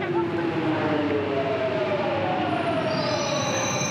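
A London Underground train rumbles steadily past, with rising and falling wheel squeals and a whining motor tone, loud and close throughout.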